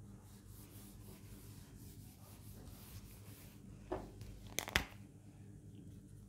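A pen scratches and rubs across paper while a worked maths example is written out, faint and close, with a couple of sharper scrapes or taps midway.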